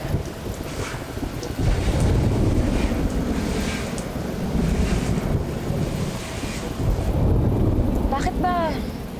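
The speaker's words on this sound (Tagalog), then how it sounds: "Titigil din naman yung ulan." Heavy rain pours steadily with a broad roar and gusts of wind, and low rumbles like distant thunder swell and fade beneath it.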